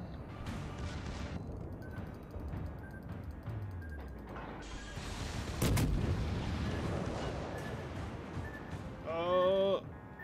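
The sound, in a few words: warship main guns firing in World of Warships video game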